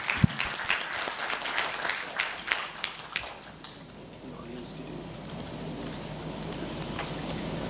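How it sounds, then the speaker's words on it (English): Applause for panelists at a consultative workshop in Karachi is brief and fairly close, with sharp individual claps that fade out after about three seconds into quiet room tone and faint murmuring. "Please have a round of applause for our panelists."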